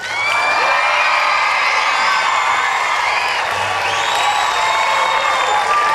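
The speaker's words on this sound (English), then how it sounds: "Give a huge round of applause for the world famous Parachute Regiment Freefall" A large outdoor airshow crowd at NAS Oceana cheers, whoops and applauds loudly and continuously for the Red Devils parachute display team, with high shouts rising above the steady roar.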